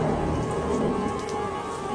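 Steady rain pours down at night, a dense, continuous hiss of drops striking surfaces that stays loud and even throughout, with no voices present.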